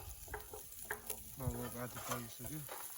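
Sekuwa meat with spices sizzling and being stirred over a fire at a mountain night campsite, a close crackling hiss with scraping stirs and a voice talking over it.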